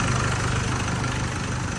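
An Isuzu Cameo pickup's 1.9-litre engine, which has a black-smoke problem, idles steadily at close range, a continuous low, even rumble with no revving.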